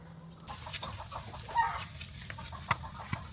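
A chicken clucks in short, scattered bursts close by, with light background noise and no speech.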